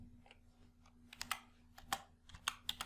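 Quick keystrokes on a computer keyboard while entering a number into an Excel spreadsheet cell, a short burst of crisp clicks close up and fairly quiet, with no talking.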